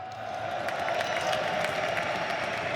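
Large crowd at The International 2024 Dota 2 esports event, a steady loud wash of cheering and applause filling the hall without pause.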